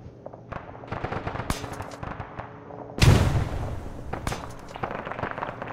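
Frag grenades explode during an Arma 3 King of the Hill match: scattered sharp gunshots crack in the first seconds, then a heavy blast booms loudly and rumbles away, followed by more scattered shots.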